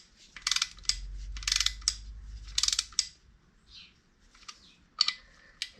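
A ratchet or torque wrench clicks in quick bursts of several rapid ratcheting clicks, close and fairly clear, while bolts are tightened into the aluminium casing of a crankcase guard on a Yamaha FZ6 motorcycle.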